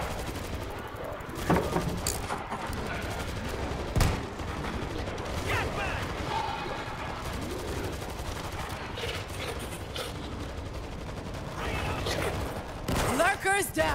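Heavy gunfire from a big gun in World War Z: sustained rapid automatic fire rattling on loudly for most of the stretch with a few sharper booms, under a player's voice.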